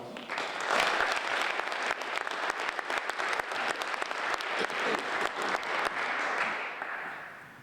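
An outdoor crowd at a Purple Heart Highway dedication ceremony gives sustained, dense applause, strong and even for several seconds before tapering off at the end.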